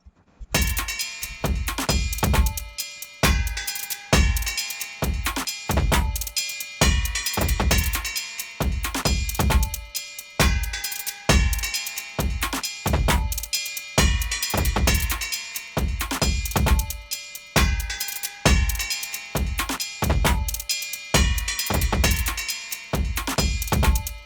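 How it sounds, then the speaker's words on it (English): A steady, looping percussion pattern of punchy low hits and bright metallic clanks repeats in a tight rhythm throughout, loud and without any voice. "what I find my favorite part is the percussion that I made here"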